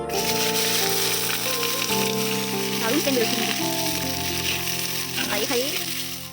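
Onions frying in mustard oil in a pan, a loud continuous sizzle with a few brief scraping stirs, heard up close and alone.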